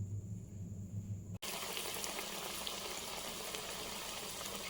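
Bread bajji dropping into hot oil, a low bubbling murmur that suddenly gives way to a loud, steady crackling sizzle lasting to the end, with no talking.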